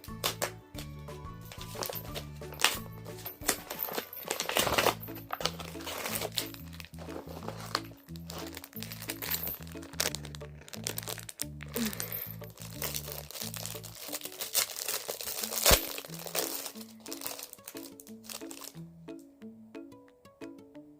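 Crinkly plastic product packaging being worked open by hand, close and persistent crumpling and rustling with some tearing, while a low voice hums or talks faintly underneath.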